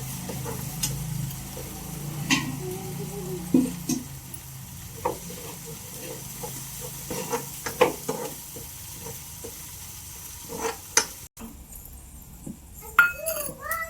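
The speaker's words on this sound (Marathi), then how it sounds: "लसूण मिरची कोथिंबीर बारीक केलेलं ते चांगलं आता तेलात ना भाजून घ्यायचं" Chopped garlic, green chili and coriander fry in oil while a utensil stirs them, with a soft sizzle under scattered scraping and metallic clinks against the pan and brief sharp knocks.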